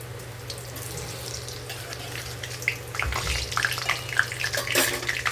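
A bay leaf and whole garam masala fry in hot oil for a Bengali chicken bhuna, giving a steady close sizzle with crackly bursts that grow louder and busier toward the end, with no talking.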